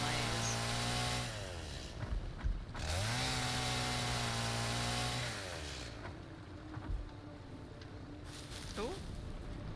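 A chainsaw cutting in the Satisfactory video game, a loud droning motor whine that rises and falls in long sustained bursts, with a person talking over it.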